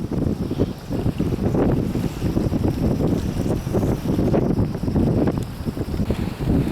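Strong gusty wind buffets the microphone while carp fishing on the water, a loud continuous roar with rolling surges and no voices.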